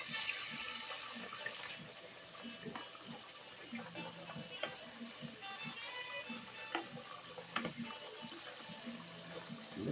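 Buttermilk-battered chicken frying in oil, a bubbling sizzle running under a person talking, with scattered crackles and pops throughout.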